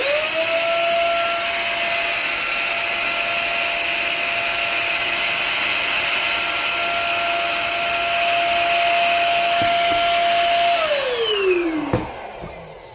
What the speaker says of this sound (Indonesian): Tanpa tekan trigger, dia langsung menyala untuk mesinnya.